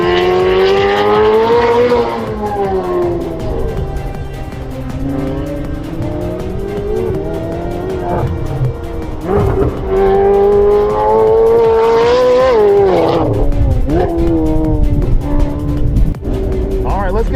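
A car with lightweight forged magnesium MC5 wheels is driven hard around a track, engine revving up and down through the lap with occasional tire squeal as it slides, loud and continuous with voices talking over it.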